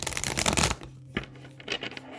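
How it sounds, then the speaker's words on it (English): Oversized Psychic Tarot of the Heart cards riffle and slap through a clumsy shuffle, a dense burst of flutter up front followed by a few scattered card snaps and slides, close and fairly loud. "Let's see if I can shuffle these."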